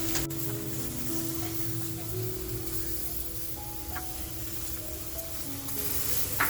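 Butter is brushed over garlic tiger prawns roasting in a tandoor, setting off a steady, close sizzle and hiss that runs throughout with faint clicks and tones in the background.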